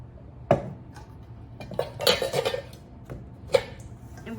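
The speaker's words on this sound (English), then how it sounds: "Gonna go ahead and put the wet into the dry." Wet muffin mixture of apple, butter, egg, carrot and honey tipped into a bowl of dry ingredients, with a few sharp clinks of a utensil against the bowl and soft scraping between them.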